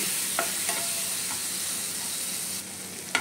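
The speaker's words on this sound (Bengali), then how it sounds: "এবার মশলাটা দিয়ে ভালো করে কষিয়ে নেব যতক্ষণ না মশলার থেকে তেল ছেড়ে আসছে" Spice paste cooks down in hot oil for a Bengali bata fish jhal, giving a continuous close sizzle and hiss with a few faint stirring clicks and scrapes and no talking.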